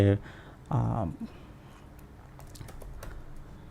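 Kotlin Jetpack Compose code typed on a computer keyboard: after a short burst of voice at the start come scattered, light key clicks, close and fairly faint.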